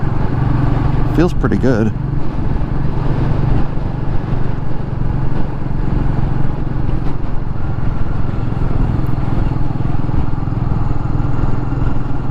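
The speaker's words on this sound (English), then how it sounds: "So we got a 5-speed transmission, and just flipping through some gears here." A 2021 Royal Enfield Meteor 350 with a five-speed gearbox runs close and steady, its engine note briefly changing as it shifts up through the gears, with a rider talking over the ride.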